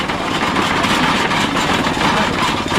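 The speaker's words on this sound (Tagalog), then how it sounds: "Dami kasing motor na katambay." Several motorcycles gathered near a high school idle close by, giving a loud, continuous, rumbling engine drone with no pauses.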